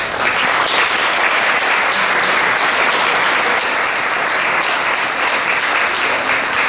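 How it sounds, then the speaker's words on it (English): Loud, continuous applause from an audience at a 90th birthday celebration honoring a man, a thick, unbroken roar of clapping close to the microphone. "let's give him another round of applause"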